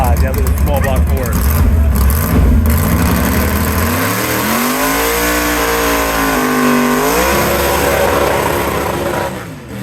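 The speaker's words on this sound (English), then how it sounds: "Wait till you listen to that thing come alive, that little small block Ford." A small block Ford race car engine revs loudly up and down, a powerful roaring tone that climbs and falls in sweeping waves, close and dominant for nearly ten seconds, with voices mixed in.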